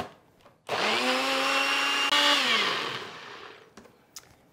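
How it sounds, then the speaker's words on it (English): A countertop blender whirs steadily for about three seconds while blending a green curry dipping sauce, with a slight pitch shift partway through, then spins down. It sounds loud and close, with no talking. "and let's blend."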